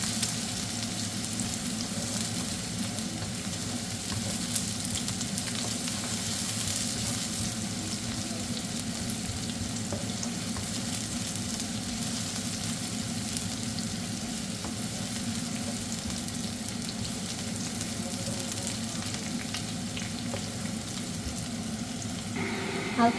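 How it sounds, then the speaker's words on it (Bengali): Chopped onion fries in oil until light brown, a continuous even sizzle close by with faint stirring, no voices throughout. "দিয়ে দিব 1 কাপ পেঁয়াজ কুচি, লাইট ব্রাউন হওয়া পর্যন্ত একটু অপেক্ষা করব।"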